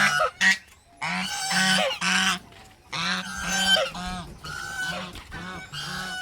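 Farm ducks honk and quack loudly in repeated bursts close by, several calls overlapping with short pauses between them, and no one speaks.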